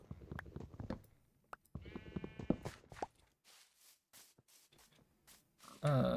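Sheep bleating in a video game, several short distinct bleats spaced out among quiet footsteps and small game sounds, ending with a louder burst of noise.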